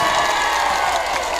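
A crowd of residents at a disaster relief post in Aceh Tenggara roars and claps for visiting President Prabowo. The dense, loud crowd noise holds steady for a short burst.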